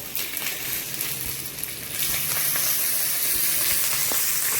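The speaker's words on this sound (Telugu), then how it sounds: "పచ్చిమిర్చి తెల్లగా అయ్యేంత వరకు వేయించుకుందాం" Green chillies and curry leaves fry in hot oil in a pan, sizzling with a steady bright hiss that swells louder partway through, close and alone.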